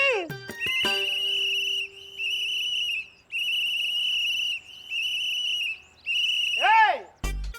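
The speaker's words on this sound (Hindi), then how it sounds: "अरे काहे यहाँ कान में आके जोर जोर से सीटी मार रहे हो" Loud, shrill whistling right next to the ear, sounded in repeated sustained bursts with short gaps between them, ending in a few swooping whistle glides.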